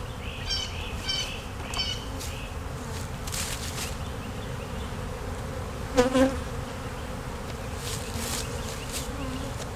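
Bees in a neglected swarm trap hum in a steady, dense drone close by, with occasional louder buzzes of individual insects passing near.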